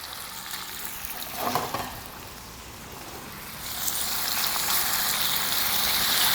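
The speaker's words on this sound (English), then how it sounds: "I'm going to throw them right into the oil. Need a little sizzle going." Cubes of chicken breast sizzle in hot frying oil in a pan, a steady crackling hiss that swells louder partway through, with a brief clatter near the start.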